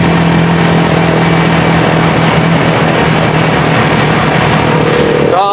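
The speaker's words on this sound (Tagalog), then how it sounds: "Kahit maingay yung makina niya, gawa natin ng paraan para tumahimik yung makina" A noisy motorcycle trike engine idles close by, a constant rough mechanical drone with a low hum running steadily throughout, with no talk over it.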